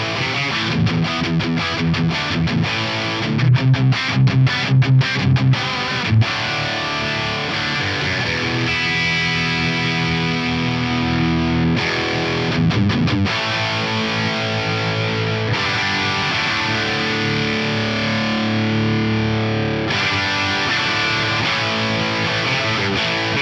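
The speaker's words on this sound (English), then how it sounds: "Let's just hear the high gain mod." An electric guitar through a St. Rock Amperium amp on its high gain mod, loud and heavily distorted. It opens with choppy palm-muted chugs, then moves into sustained saturated chords and riffs, with no voices.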